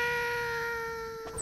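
A cat's meow in the Little Kitty Big City video game, a single drawn-out tonal cry lasting about a second, clear and fairly close, tapering off at the end.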